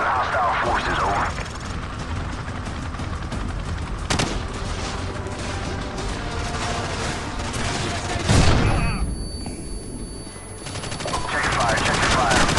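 Gunfire and explosions from a Call of Duty Modern Warfare campaign mission, with dense, continuous automatic fire and heavy booms throughout, a loud blast near the middle, and shouted voices mixed into the battle.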